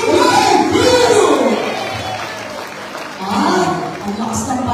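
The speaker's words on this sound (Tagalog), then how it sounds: "Ang lakas ng palakpak kay Kap, ha?" A crowd at a barangay community orientation event applauds and cheers for its returning barangay captain, loud clapping and shouts rising at the start, easing briefly, then swelling again, with voices mixed in.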